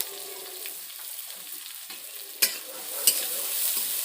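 Chopped onion and green chilli frying in a pan while being stirred, a steady close sizzle with the spatula scraping and two sharp clacks against the metal.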